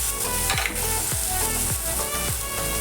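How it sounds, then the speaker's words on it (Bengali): Peas tipped into fried potatoes in a pan, producing a loud steady sizzle with rhythmic scraping strokes of a spatula repeating about every half second, close by and with no talk. "দেখুন আলু ভাজা ভাজা হয়ে গেছে এবার আমি এতে দিয়ে দিচ্ছি মটরশুঁটি"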